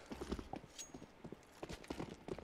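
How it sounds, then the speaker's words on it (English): Footsteps in the Counter-Strike video game on the Train map, a quick series of light clopping steps moving along at a steady pace, quiet and without talk over them. "Wuyu, of course, holding down B site, is surely going to hear these footsteps up towards the white train"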